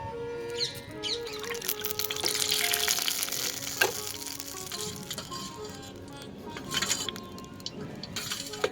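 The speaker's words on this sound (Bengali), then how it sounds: "অল্প একটু সর্ষের তেল তেলের মধ্যে দিয়ে নিচ্ছি কয়েকটা সর্ষে দুটো শুকনো লঙ্কা আর গোটা কয়েক কারি পাতা" Mustard seeds, dried red chillies and curry leaves sizzle and crackle in hot mustard oil, a steady close frying hiss with scattered pops and a few light utensil clinks, no voices.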